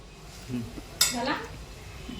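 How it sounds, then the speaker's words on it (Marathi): Pigeon pea pods are added to a pan and mixed in, giving a brief burst of rattling and scraping with a light metallic clink, heard close and moderately quiet. "आता मी टाकते तुरीचे सोले छान छान असे तुरीचे सोले आपण त्यामध्ये मिक्स करून घेऊया"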